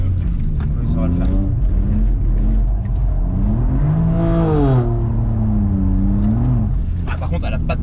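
A 750 hp BMW M2 drifting at the Lohéac circuit, its engine loud and close, revving up and down in sweeping surges while people talk over it.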